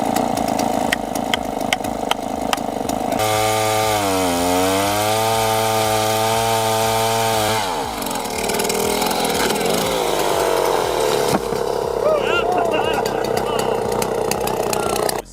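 A rebuilt Stihl 090 AV chainsaw with a 4-foot bar roars steadily, its pitch dipping and rising as it bogs into a massive oak root ball, continuous and loud up close.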